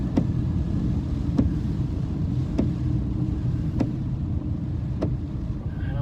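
Heavy rain drums steadily on a vehicle in a continuous dense hiss, broken by a few sharp periodic ticks, with no voices.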